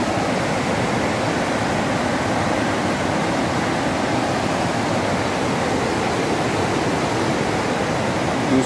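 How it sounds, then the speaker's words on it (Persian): Water rushing steadily beneath rocks on a mountainside, a continuous broadband roar like a small stream or waterfall, close and loud throughout with no pauses. "آب از زیر اینجا رد میشه میاد و این ور رد میشه میره"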